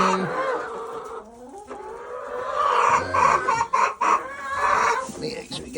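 Backyard coop hens clucking and squawking in a busy, close chorus, with occasional louder calls rising over the flock and a person's voice briefly heard among them.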